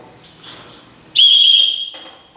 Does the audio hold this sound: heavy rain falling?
no